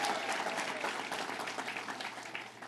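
A dense, steady round of applause from a crowd at a Teamsters-hosted rally for State Senator Todd Kaminsky, fairly faint and distant, fading slightly toward the end.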